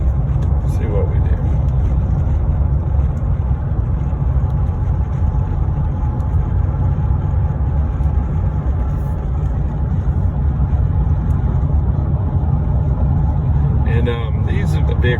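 A 2009 Chevy Silverado with a 5.3 engine drives up to speed. A loud, steady low rumble of engine and road noise continues throughout.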